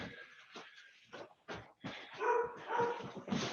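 A pet dog barking in a home, several close, loud barks and yips in irregular bursts, with a few whimpering sounds between them and no talking.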